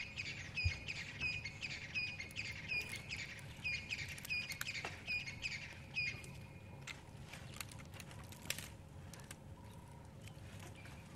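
A grey-headed bushshrike calls in the distance during an early-morning game drive, faint whistled notes repeating among other bird chirps and background rumble.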